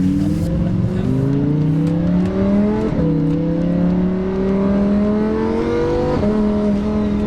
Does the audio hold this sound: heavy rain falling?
no